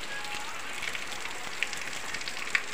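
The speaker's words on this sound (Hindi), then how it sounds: "देखिए दोस्तों, कितनी बारिश हो रही है आज सुबह सुबह ही।" Heavy rain falling in the early morning makes a steady, dense hiss, with a few sharper drop ticks standing out now and then. Nothing else is heard.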